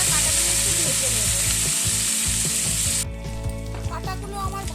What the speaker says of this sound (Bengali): কাটাগুলো একটু ভেজে নেব।